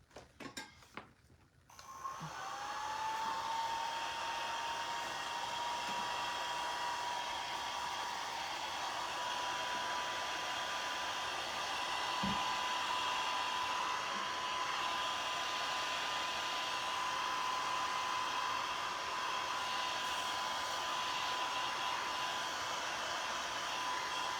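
Hair dryer blowing steadily on a piece from a wonky sunflower and scarecrow DIY craft kit, a continuous close whirring hum that starts after a brief rustle and runs unbroken to the end.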